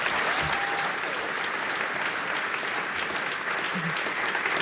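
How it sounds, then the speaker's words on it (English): A large audience gives a warm, steady round of applause welcoming author Kim Ghattas to the stage, dense clapping throughout with a faint voice briefly audible beneath it. "Give her a very warm applause."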